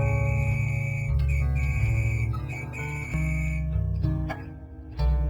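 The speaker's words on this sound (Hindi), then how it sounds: "अचानक दूर से पुलिस की सीटी सुनाई देती है।" A police whistle in an animated Hindi story, heard as a string of shrill tonal blasts of varying length over a low droning background, fairly prominent rather than faint.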